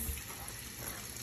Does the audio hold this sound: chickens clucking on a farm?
no